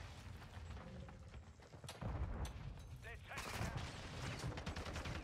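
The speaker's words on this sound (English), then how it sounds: "This guy is shooting the shit out of me." Gunfire in Call of Duty: Modern Warfare 2 ranked play, bursts of rapid shots and a steady rattle of fire, fairly faint and mixed with game noise, a voice talking over part of it.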